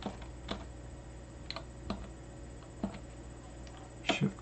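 Computer mouse clicks while shift-clicking in a mockup, a handful of faint, sharp isolated clicks spaced irregularly over quiet room hum.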